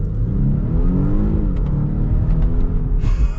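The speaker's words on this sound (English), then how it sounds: "It's definitely quick from an acceleration perspective" Volvo S60 Recharge T8 R-Design sedan accelerating hard, a loud, steady engine drone and whir rising in pitch from inside the car, with a brief click near the end.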